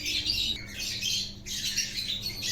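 A pigeon nesting in the middle box of a loft gives harsh squawking calls in three close bursts with short gaps between them.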